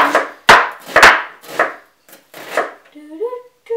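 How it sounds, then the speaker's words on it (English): Onions are chopped with a knife for a homemade vegetable marinara sauce, giving about six sharp, close cuts against a board in an uneven rhythm. A faint squeak and a clatter follow at the end. "And then our onions, chop, chop, slicing, slicing."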